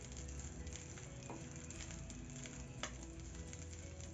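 Onions fry in a pan with a steady, quiet sizzle, broken by a few soft stirring scrapes, with no talking.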